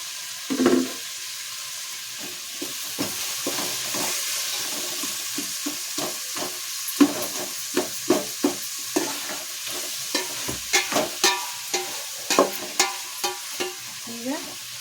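Cut tomato, beans, carrot, capsicum and beetroot stir-fried for vegetable rice bath, a spatula scraping and clacking against the pan in a steady run of sharp knocks over a soft sizzle.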